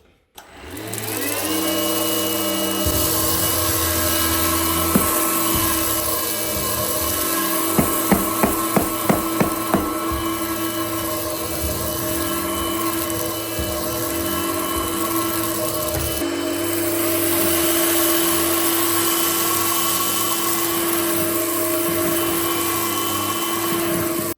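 A Shark Freestyle Max cordless upright vacuum cleaner runs with a steady close motor whine while cleaning along edges, with a brief burst of rapid rattling clicks as debris is picked up.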